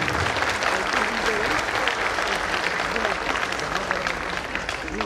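An audience bursts into sustained, loud applause at a public gathering, dense clapping from many hands filling the hall continuously.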